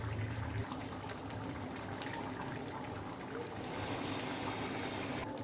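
Chickpea dal curry with chicken and chui jhal bubbling on the stove, a steady low simmering and bubbling churn that runs unbroken throughout, faint and close.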